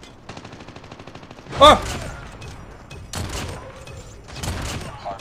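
A Kilo rifle in Call of Duty Mobile fires a rapid automatic burst during a hardpoint match, followed by several louder, heavier shot bursts, with a player briefly exclaiming over the gunfire.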